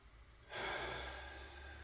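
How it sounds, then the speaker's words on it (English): A single deep breath drawn in through the nose, a soft, close airy inhale that swells up suddenly and holds steady, quiet and alone. "take a few deep breaths in through your nose"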